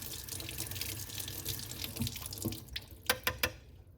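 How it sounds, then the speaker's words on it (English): Tap water runs steadily into a sink while a paint brush is rinsed, a soft continuous splashing stream with a few sharper drips and splashes near the end. "continue to go around and around until I see that the water that is coming out of the brush is dripping clear in the sink"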